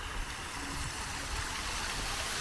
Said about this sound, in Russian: Вот она, водичка течет.